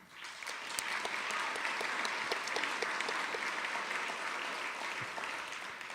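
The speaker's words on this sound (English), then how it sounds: "So my applause to that group of people who put this on." Audience applause fills an indoor hall at a literary event, steady dense clapping sustained for the full six seconds with no speech over it.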